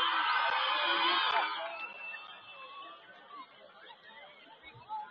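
A crowd at a high school homecoming cheers and whoops for the freshman class. The noise is loud and dense at first, then fades to a softer murmur of chatter.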